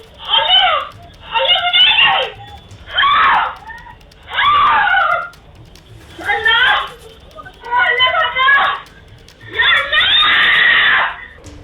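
People screaming and wailing after a homemade bomb blast in Bhiwadi, a series of loud, high, anguished cries in about eight separate bursts with short pauses between them, close and raw.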